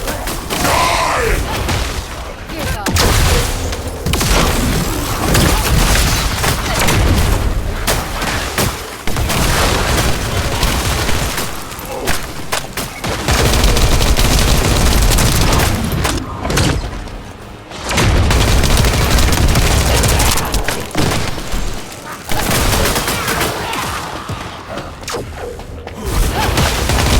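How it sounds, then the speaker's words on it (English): Precision bomb explosions and gunfire in the video game The First Descendant, loud repeated booms and bursts of shooting in dense, continuous combat with short lulls between barrages. "Time to try out Lord Carell's gift to me. This precision bomb."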